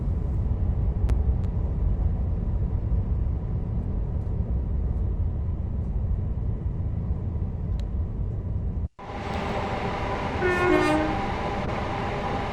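Class 805 train in Train Sim World 6, slowing as it approaches Milton Keynes Central on the West Coast Main Line. A loud, steady low rumble gives way after a sudden brief cut to a brighter, hissing whine with some tonal squeal.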